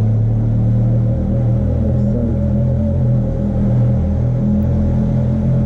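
A Benelli TRK 502 X motorcycle engine rumbles steadily and loudly at low speed during slow clutch maneuvers in a historic area, a constant deep drone throughout.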